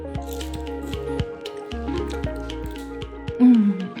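A knife slices through fruit in a series of short, crisp cuts at an uneven pace, close by, over a steady tonal hum.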